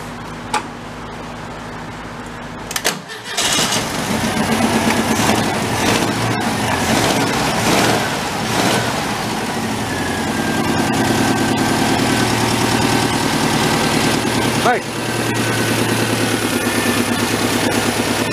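Restored tractor engine, idling steadily, briefly cut off, then cranked and fired back up into a loud rumbling idle that revs and settles, close by throughout.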